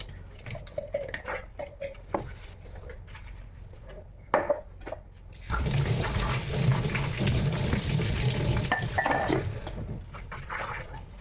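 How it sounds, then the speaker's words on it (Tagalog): A big pile of dishes is being washed by hand, with scattered clinks of plates and cutlery at first, then a loud stretch of running water splashing over pots and pans while the clatter continues. "huhugasan ko muna po ang aking napakatambak na hugasin"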